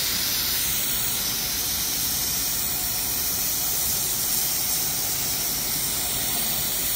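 Brake cleaner sprays in a steady, continuous hiss onto a scalding hot oil filter on a Jeep 4.0 Cherokee or Wrangler, loud and close with no pauses for the whole stretch.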